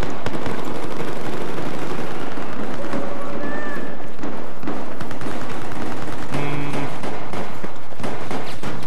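Rapid gunfire and blasts in a Battlefield 4 Gun Master match, a shotgun firing among dense bursts of shots, explosions and game effects, continuous and loud.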